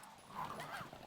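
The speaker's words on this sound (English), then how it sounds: "I will actually fight these dogs." Dogs bark and snarl in the Resident Evil video game, a brief burst of aggressive canine sound, fairly faint, with light talking under it.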